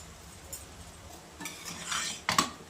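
Rice is stirred into a meal maker biryani pot with a metal spoon, giving a few close scraping and clinking strokes against the pot, the last ones loudest, with no talk.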